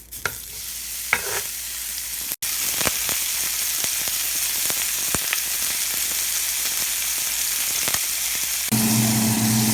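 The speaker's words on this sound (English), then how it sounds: "so I'm going to put the burgers on now." Beef burgers frying in a smoking-hot pan, a steady loud sizzle running throughout with occasional sharp pops and crackles, brief scrapes, and a heavier hiss swelling near the end.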